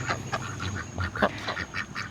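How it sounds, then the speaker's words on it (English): Ducks quack in a quick run of short calls outdoors near traffic, close and clear, with a low road rumble underneath. "these ducks are so cute"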